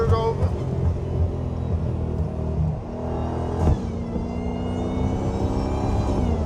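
Straight-piped Dodge Hellcat cruising on a freeway in the morning, heard from inside as a continuous low exhaust rumble and road drone, steady and fairly close, with a brief sharper spike partway through.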